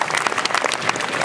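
Crowd applause at an outdoor 4x4 show, a steady dense wash of clapping from many hands, loud and close, filling the whole moment without pause.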